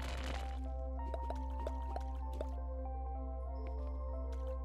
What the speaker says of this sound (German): schlabbert der Hund ein bisschen Wasser auf.